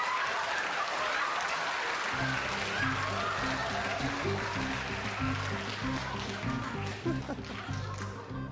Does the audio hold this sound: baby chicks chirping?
no